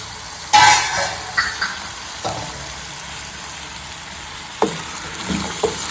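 Double beans go into a pan of frying onion masala with a sudden loud sizzle, then softer crackling and a few scattered stirring scrapes and clacks while the frying hiss fades.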